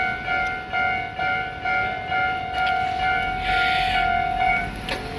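Level crossing on the Tobu Tojo line by Kawagoe Station, under an arch bridge, with its warning bells ringing in a steady repeating tone and a train rumbling past beneath them.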